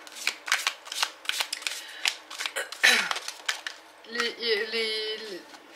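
Oracle cards shuffled by hand for a tarot reading, a run of quick papery riffles and flicks up close, with a voice speaking briefly toward the end.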